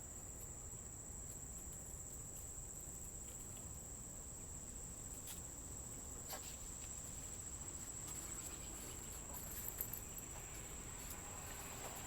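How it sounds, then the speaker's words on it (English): Crickets chirp in a continuous high-pitched trill, quiet and steady, with faint outdoor ambience beneath. "Let me let you hear the crickets."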